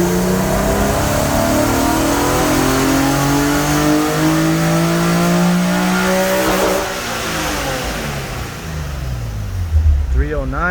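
A Nissan VQ engine running E65 ethanol blend revs loud and close, pitch climbing steadily for several seconds before dropping off as the revs fall, with a brief voice near the end.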